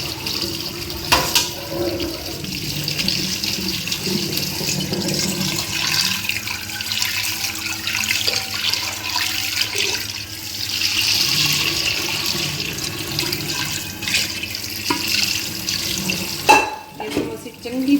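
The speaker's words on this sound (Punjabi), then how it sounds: "ਸਾਫ਼ ਪਾਣੀ ਦੇ ਨਾਲ ਧੋ ਲਵਾਂਗੇ" Tap water pours steadily over boiled soya chunks held in a mesh strainer, a continuous splashing rush running nearly the full length before a brief clatter near the end.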